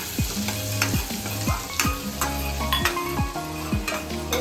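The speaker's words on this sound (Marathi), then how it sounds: "तर आता ह्याच्यामध्ये हे अद्रक आणि लसूण जे कापून ठेवलेले आहे ते टाकून घेऊया" Chopped ginger and garlic frying in oil and butter, a bright crackling sizzle with a regular run of spoon strokes scraping and knocking the pan, close and loud with no talking.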